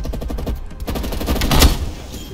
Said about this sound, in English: I hate that shotgun